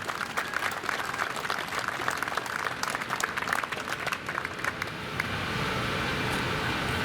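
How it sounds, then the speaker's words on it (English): Applause from an outdoor veterans' rally crowd in Salem, Oregon, a steady wash of clapping that thins and fades into a steady low background hum over the last couple of seconds. "But another round of applause for Cheryl Bennett and her story, because it"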